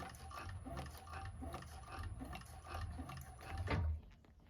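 A 1341 cylinder-arm sewing machine stitching across a bag, a faint steady mechanical whir with soft repeating pulses. It runs on for several seconds, then stops abruptly.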